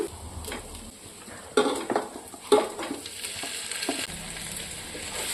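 Fried chicken and spiced biryani base are stirred together in a pot, with close sizzling, scraping spoon strokes and clinks of metal against the pot's sides, no voices.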